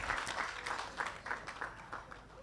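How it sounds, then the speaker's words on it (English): An audience at a festival panel in Kenya's National Museum claps steadily in a sustained round of applause for the panelists, fairly distant and even throughout. "A big round of applause for all my panelists who have done a really great job."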